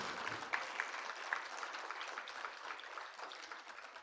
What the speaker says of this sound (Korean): 쳐주려면 좀 화끈하게 쳐주지 뭐 이래요